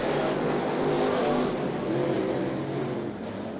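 Pro Late Model race cars roaring around the back straightaway of Ponderosa Speedway on the final lap, a loud, continuous engine drone that holds steady and eases slightly near the end.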